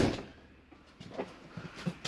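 A camper door on a Keystone Cougar 26RLS travel trailer is pushed shut, giving a soft thud at the start, then a few light knocks and rattles that end in a final click, close and fairly quiet.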